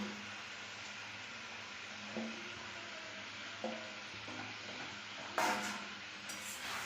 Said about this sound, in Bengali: এবার আলুগুলো দিয়ে আমি কষে নেব